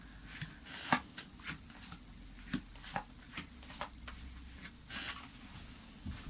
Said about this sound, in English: we'll just shuffle these cards as the clarifiers